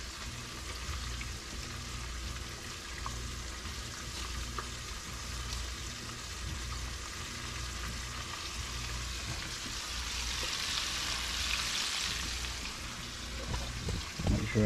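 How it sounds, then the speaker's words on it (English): Deer tenderloins fry in hot grease, Southern style, giving a steady, even sizzle that runs without a break and swells slightly louder near the end, with no talking over it. "No sooner they go in, they're frying up."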